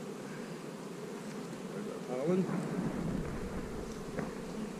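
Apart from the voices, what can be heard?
honey bees buzzing in an open beehive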